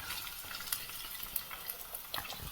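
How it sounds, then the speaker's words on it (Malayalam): Onions fry in hot oil in a pan for a fish curry, giving a steady close sizzle with scattered crackles and spatters and occasional soft stirring strokes. "ഉള്ളി പതുക്കെ പതുക്കെ ഇട്ട് കൊടുക്കാം"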